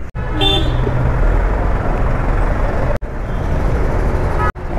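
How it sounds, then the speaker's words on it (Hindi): Car horns blare loudly in a traffic jam, one long overlapping honk after another sounding almost nonstop, with road noise underneath and only brief breaks. "यार ट्रैफिक लग गई"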